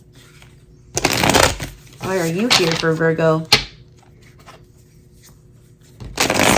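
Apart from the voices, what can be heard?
shuffling tarot cards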